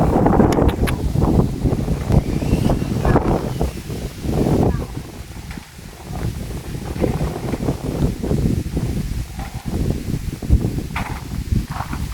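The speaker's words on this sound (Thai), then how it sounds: "ลมแรงเลยนี่เนาะ" Strong outdoor wind buffets the microphone in a continuous loud roar with rustling gusts, and a voice talks faintly beneath it.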